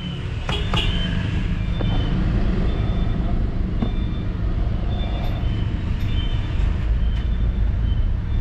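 A 2016 Toyota Avanza with a low-power fault, after a weak ignition coil was replaced, has its engine held at high revs. It gives a loud, close, continuous low rumble with a steady mechanical roar throughout.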